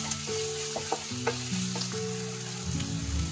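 Chopped garlic, green chilies, onion and capsicum with salt fry over high flame in a pan, a continuous sizzle with occasional utensil taps, under a steady musical hum.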